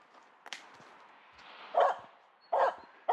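A dog barks twice in short, moderately loud bursts about a second apart, with quieter snuffling and faint yips in between.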